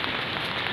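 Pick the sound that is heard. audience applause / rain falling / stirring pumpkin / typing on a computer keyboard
rain falling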